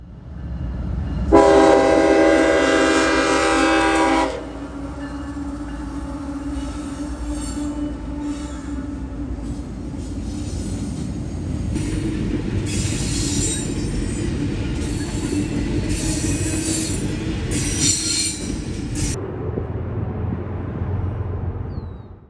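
CSX freight train I-141 passing MC Cabin in Dayton on the Toledo Sub. A loud horn blast opens, then comes a long rumbling pass of rolling wagons with metallic wheel squeals and clatter before it fades.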